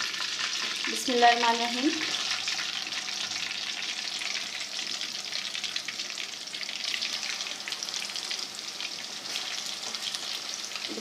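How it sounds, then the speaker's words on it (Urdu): Kebabs fry in oil in a handi pot, a steady close sizzle with a brief louder burst of spattering early on when more kebabs go in, then continuous even frying. A voice speaks a short phrase near the start. "اس کو بھی فرائی کر لیتے ہیں۔"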